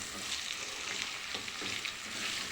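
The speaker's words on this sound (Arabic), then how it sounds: "اول ما السمنه تسخن معايا البصل اهو اشوحها كده" Chopped onions sautéing in hot ghee in a pot for an Egyptian meat and onion tagine, a steady close crackling sizzle with soft stirring throughout and no talking.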